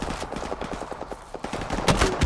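Weapon fire from a grenade launcher in the video game Call of Duty Modern Warfare Remastered: a rapid series of loud, close bursts, ending in a heavier blast near the end.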